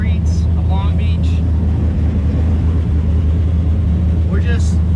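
Drift car engine rumbling at idle while lined up in a parking lot at a Long Beach street-circuit event, a steady loud low drone with faint higher chirps over it, heard from inside the car.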